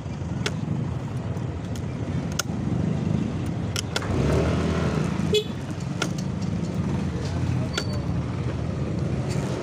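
Busy road traffic around a Lalamove delivery rider in the Philippines, a steady rumble of engines with passing vehicles and occasional horn toots, and a voice speaking over it.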